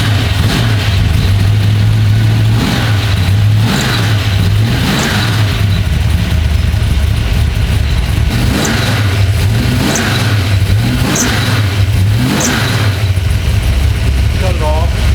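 A street-racing car's engine is started and left running, loud and close, with a steady throbbing idle broken by a few sharp revs before it settles back down.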